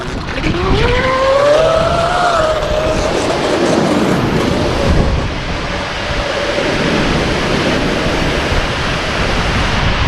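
A Black Jack 42 RC boat runs under throttle with a loud, rushing water-and-motor roar, a rising motor whine in the first few seconds, then sustained spray and wash noise.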